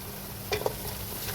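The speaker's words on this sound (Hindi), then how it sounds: "ये देखिए हमारा लहसुन अदरक का पेस्ट भी फ्राई हो गया है" A soft, steady sizzle of garlic ginger paste frying in oil, with a few light scraping stirs breaking through the hiss.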